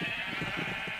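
A sheep bleats in a Minecraft-style animation: a single quavering, pulsing bleat, close and fairly quiet, with no other sounds around it.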